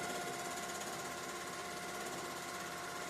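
Sewing machine doing free motion quilting on a Grace mini frame, a steady continuous mechanical whir and hum, faint and unbroken with no talk.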